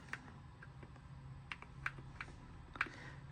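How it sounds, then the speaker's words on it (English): Fingers tap keys on a computer keyboard, with several separate clicks at an irregular rhythm. The clicks are faint and close, over a low steady hum. "I'm pressing a bunch of keys on my actual computer there"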